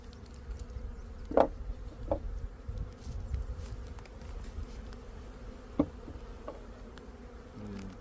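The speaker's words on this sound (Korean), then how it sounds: "벌의 움직임이 확실히 다르죠" Honeybees buzz around an open hive at an apiary, a soft steady hum with occasional louder individual bees passing close by the microphone, no talking.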